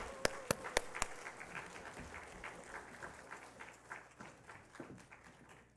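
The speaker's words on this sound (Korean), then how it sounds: "목사님 나오실 때 박수로 환영하겠습니다." A church congregation at a New Year teachers' revival meeting claps to welcome a pastor. A few crisp claps come first, then softer scattered clapping follows, faint and somewhat distant.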